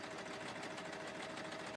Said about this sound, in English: I'm going to use the sewing machine to see if I can get a better result